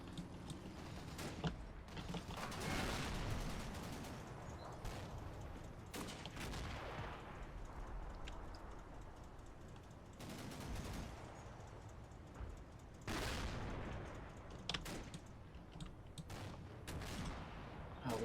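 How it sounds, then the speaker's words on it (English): Machine gun fire crackles in Combat Mission Final Blitzkrieg: repeated sharp bursts and rattling volleys, some near and loud, others more distant, spread over a dense battlefield din with no voices. "I can hear some MG fire going off here, and I'm not sure what it is."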